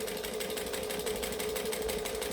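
A sewing machine stitches and back stitches on a garment seam, its motor humming steadily with a fast, even needle rhythm close up for the whole stretch.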